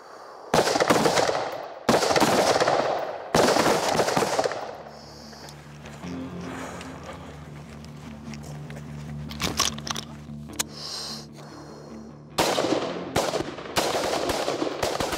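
Rifle volleys from Danish light infantry soldiers on a firing range: loud sharp cracks in clusters near the start and again at the end, with a quieter stretch of rumble and scattered noise between.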